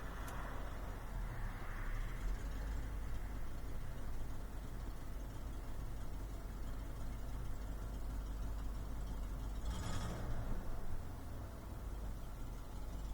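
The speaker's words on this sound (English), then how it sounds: "if I switch to the second tank, you'll hear it sound like it's cammed." A truck engine idles with a loping, uneven cammed-sounding rumble while running on its second fuel tank, steady and close throughout, with a brief hiss partway through.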